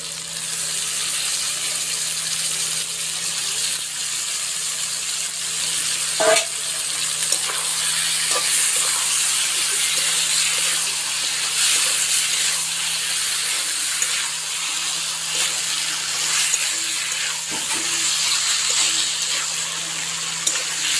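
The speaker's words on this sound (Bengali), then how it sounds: "মশলা কষানো হয়ে গেছে, আমি এখন এর মধ্যে মাংস দিয়ে দেব।" Broiler chicken meat sizzling loudly after being added to fried spice paste for a curry, a steady close hiss with a few scattered clinks of a spoon in the pan.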